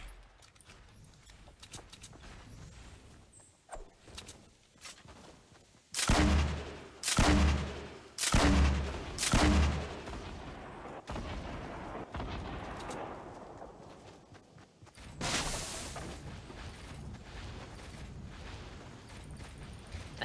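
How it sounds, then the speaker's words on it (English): Several loud gunshots ring out one after another in Fortnite as a player fires at metal structures, followed a few seconds later by another heavy blast, with quiet game ambience in between. "I'm just gonna shoot some metal real quick"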